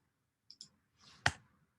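Computer keyboard keys clicking, two faint quick taps followed by a single sharper, louder keystroke, close up in a quiet room.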